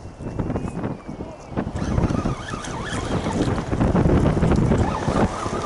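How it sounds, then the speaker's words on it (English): Strong wind gusts buffet a small fishing boat on the water during a red drum and black drum outing, a steady roaring rush with lapping waves that builds louder toward the end, with no talking. "the wind is really picking up"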